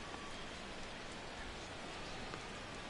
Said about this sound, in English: There is some rain coming down